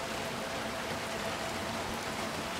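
Steady rain in the video game Little Nightmares 2, a dense, even hiss of falling drops that holds at a constant level with no talking over it.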